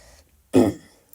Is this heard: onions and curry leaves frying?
no